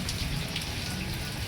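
Steady rain patters on a surface at a rural farm where buffaloes are kept, a dense continuous hiss of drops close by with no other sounds.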